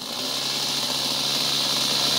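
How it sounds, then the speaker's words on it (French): A small combustion engine on a model airplane, running after starting backwards, drones steadily and loudly with a high whine throughout, close by and with no voices. "le moteur a démarré à l'envers, ça arrive quelquefois"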